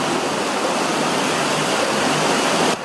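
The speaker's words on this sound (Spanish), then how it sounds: "El agua convirtió un tramo de esta calle en un verdadero río." Water gushes from a burst water main and floods a street in Los Vergeles, making a loud, dense, continuous roar that cuts off abruptly near the end.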